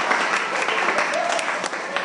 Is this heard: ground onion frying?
no